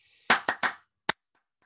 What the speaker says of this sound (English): am I clapping rhythm A, B, or C?